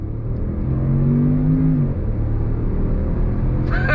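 A 2023 Range Rover Autobiography long-wheelbase luxury SUV with the 530 PS engine pulls under throttle, a steady low rumble whose engine note rises briefly then settles, heard from inside the quiet cabin with no talking.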